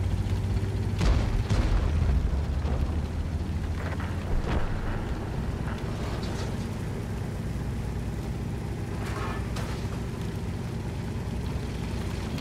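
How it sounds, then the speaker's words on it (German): A tank cannon in World of Tanks fires with deep booming blasts early on, followed by a rumbling engine and battlefield ambience that carries on without talk. "Einfach mal durch den Turm knallhart geschossen."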